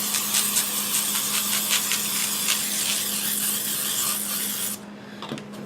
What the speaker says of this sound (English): I want to take a little bit of my olive oil and I'm going to spray the top.